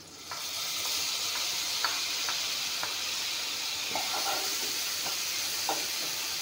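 Garlic, chili and ginger paste frying in a pan, a steady close sizzle with occasional light clicks of stirring, no voices.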